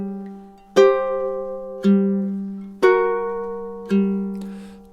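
A solo ukulele plays three measures of a TV theme as four clear, ringing plucked chords, evenly spaced about a second apart, each left to sustain and fade, with no talking.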